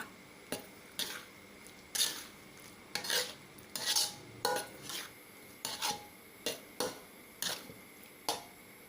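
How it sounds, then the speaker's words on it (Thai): A spatula stirs squid stir-fried with oyster sauce and seasoning powder in a pan, giving a dozen or so sharp, evenly spaced scrapes and clanks against the metal over a faint sizzle, with no voices. "คน ส่วนผสมให้เข้ากันเลยนะคะ"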